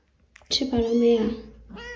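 A stray kitten gives one clear, close meow, rising then trailing off, followed by a shorter second call.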